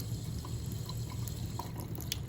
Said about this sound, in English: So you get a nice stream of water like that